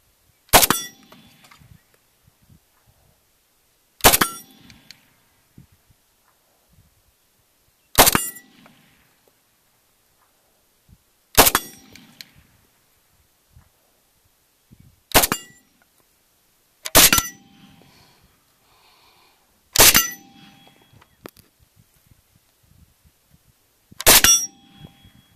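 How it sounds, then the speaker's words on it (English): Rifle shots from an AK-74 with a Dell Comp muzzle device striking a Caldwell Magnum steel rifle gong: eight sharp, loud metallic clangs spaced a few seconds apart, each ringing briefly before fading into quiet. "I picked up this Caldwell Magnum rifle gong because everybody likes shooting steel"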